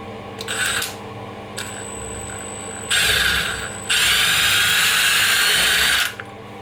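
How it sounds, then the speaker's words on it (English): A power drill pre-drills a hole while a squeaky door is being fixed, whirring in short bursts, starting and stopping several times with a high-pitched motor whine, close and loud, and no speech. "We'll pre-drill this one here straight into that center."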